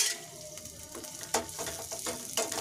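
Ginger garlic paste fries in a pan for a liver pepper fry, giving a soft sizzling hiss with a few sharper spattering bursts and faint stirring clatter, close and fairly quiet.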